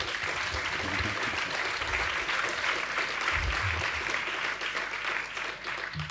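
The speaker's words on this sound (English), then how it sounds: "Applause." Audience applause welcoming Harmony Korine at a filmmaking masterclass, a steady dense clapping that runs the whole time at moderate level, with low rumbles of movement beneath.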